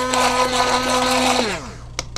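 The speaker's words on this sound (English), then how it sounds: "use your immersion blender" An immersion blender whirs steadily in water with guar gum, a loud close motor drone that slows and winds down near the end, followed by a couple of sharp clicks.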